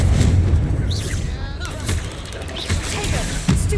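Hogwarts Legacy combat with repeated booming explosions from a fiery blast spell, heavy low thumps landing in bursts amid a dense, loud battle din with a voice speaking over it.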